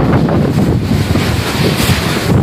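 Strong typhoon wind roars in a loud, unbroken rush during a storm that tears roofs from houses, buffeting the microphone with deep rumbling gusts throughout.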